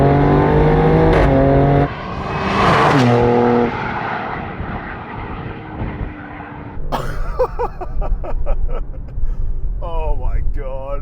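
An Alfa Romeo Stelvio Quadrifoglio performance SUV engine revs and accelerates hard, its loud rising tone climbing through gear changes with a roaring, rasping exhaust in bursts toward the end, and a voice speaks over it.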